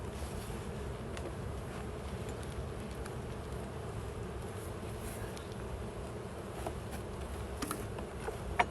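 Honeybees hum steadily around an open hive during an inspection, a dense continuous drone of many wings with a few closer individual bees passing the microphone and light wind noise.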